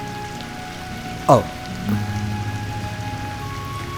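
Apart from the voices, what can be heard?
heavy rain falling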